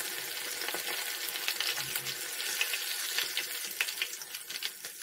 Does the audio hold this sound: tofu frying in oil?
yes